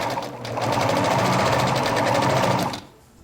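A sewing machine runs a straight seam along the edge of gathered elastic fabric, a fast even mechanical chatter lasting close to three seconds before stopping, close and loud with no talk.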